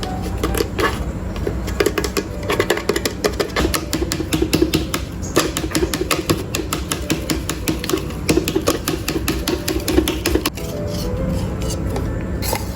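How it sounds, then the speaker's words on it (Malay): Flour is sifted for an orange cake with quick, rhythmic tapping and rattling of a sieve, continuous and close for several seconds. "ah, ayakkan tepung ni"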